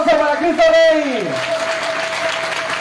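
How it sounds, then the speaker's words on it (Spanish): Applause from an audience at a Catholic catechism gathering for Christ the King, a broad wash of clapping that carries on under a voice speaking loudly at the start. "Fuerte el aplauso para Cristo Rey"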